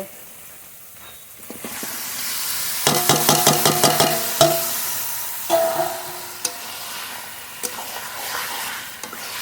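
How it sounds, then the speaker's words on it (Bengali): Spiced desi duck meat hits a hot pan of fried-down masala with a loud burst of sizzling, then a utensil stirs and scrapes it in quick rhythmic strokes under a continuous hiss. "মশলা মাখানো মাংস দিয়ে দেব"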